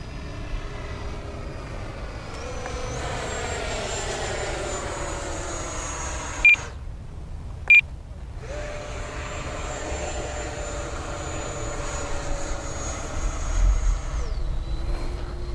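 An FMS F-18 70mm EDF model jet screams with a steady high-pitched ducted-fan whine that shifts in pitch as it flies past, interrupted by two short electronic beeps midway.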